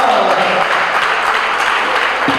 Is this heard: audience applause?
yes